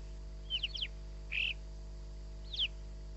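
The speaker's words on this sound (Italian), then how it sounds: "Un nibbio bruno." A black kite in the Monti Sibillini mountains gives three short, thin whistling calls spaced about a second apart, faint and distant over a steady low hum.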